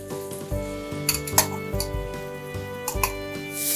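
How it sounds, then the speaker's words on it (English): Okra (bhindi) sautéing on a high flame with onions and tomatoes: a steady sizzle punctuated by clinks and scrapes of a spoon against the pan, over sustained tonal background music. "Allow this to saute on high flame for literally 30 to 40 seconds"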